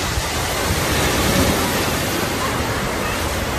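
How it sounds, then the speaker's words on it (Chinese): Broadband surf noise from sea waves along a sunny beach with many sunbathers, a steady, fairly loud wash of water that fills the whole stretch without clear breaks. "听听海浪声"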